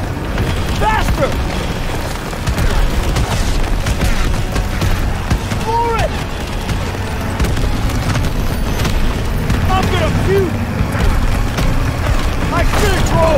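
Loud, continuous battlefield din from a Call of Duty WW2 mission near Argentan, France, with booming blasts and bursts of gunfire throughout, while voices shout over the action.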